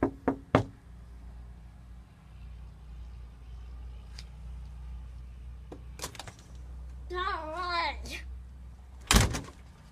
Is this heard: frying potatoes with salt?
no